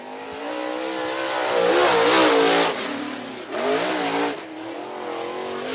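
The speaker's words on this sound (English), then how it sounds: "Lap 1 for Rich Bell" A race car's engine revs hard on a qualifying lap at Merritt Speedway, its loud harmonic whine climbing through gear shifts and dipping briefly before winding up again, close and steady.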